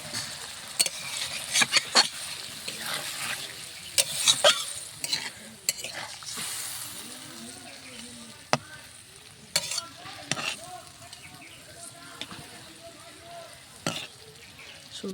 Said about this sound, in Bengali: একটু পানি দেব, পানি দিয়ে পানিটা নেড়ে নামাবো।